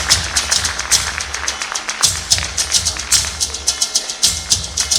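An audience at a school annual day claps loudly for a top-scoring student, the sharp claps falling in uneven rhythmic bursts with short pauses.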